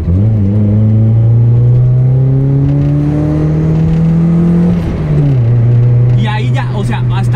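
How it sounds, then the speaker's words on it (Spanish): A manual-transmission car engine revs up in a long sustained throttle blip, pitch climbing steadily before dropping back to idle, loud and close. "hay que darle un pequeño golpe de gas"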